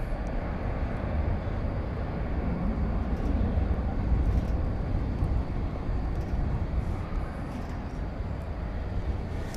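A Piedmont Airlines aircraft in retro livery passes at DFW Airport at night, a steady, moderately faint broadband engine rumble lasting about ten seconds.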